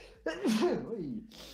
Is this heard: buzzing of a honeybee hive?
no